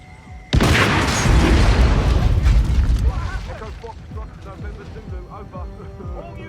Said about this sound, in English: All units, be aware of explosions in the area